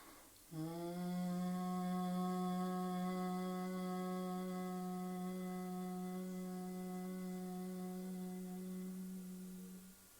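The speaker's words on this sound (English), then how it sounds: "we take a lovely long in breath and then we hum out" A long, steady humming exhalation in the bumblebee breath (brahmari) yoga practice, a low, even voiced drone that starts abruptly, holds for about ten seconds and fades gently at the end, heard alone with no other sounds.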